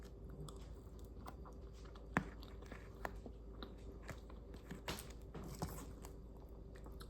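Close, quiet chewing and biting while tasting a homemade recipe, a series of soft crunchy bites and mouth sounds spread irregularly over several seconds in a still room.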